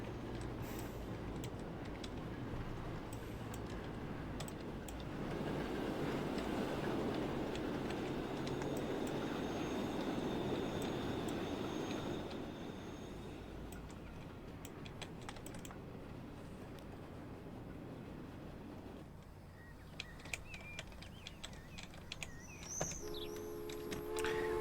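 A train rolls past in the railway simulation game Transport Fever 2, a broad rumbling swell that builds and fades over several seconds, joined by the clatter of computer keyboard typing and some later clicks.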